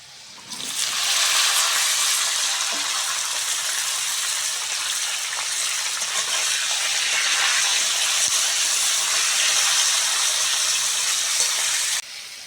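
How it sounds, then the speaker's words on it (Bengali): Eggplant pieces dropped into hot oil with potatoes and turmeric set up a loud, steady hiss of sizzling that bursts in after a brief quiet start, holds evenly close up for over ten seconds, then drops off abruptly. "হালকা করে ভেজে নিয়েছি এইবার বেগুনগুলো দিয়ে দেবো"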